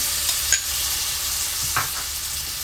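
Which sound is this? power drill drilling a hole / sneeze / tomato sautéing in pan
tomato sautéing in pan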